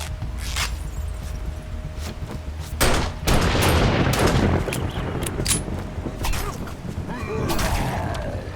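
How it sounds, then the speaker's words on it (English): Gunfire in the 7 Days to Die zombie survival game, with a flurry of panicked shots: sharp cracks and a burst of rapid firing that swells into a loud, crashing volley in the middle, with no talk over it. "Bit of panic firing, never hurt anybody"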